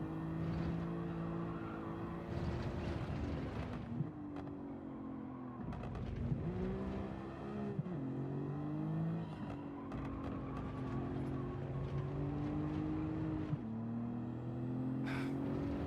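In the Gran Turismo 7 racing game, a car engine drones and revs in steady tones that rise and drop as it shifts gears, including an upshift, held at moderate level without pause.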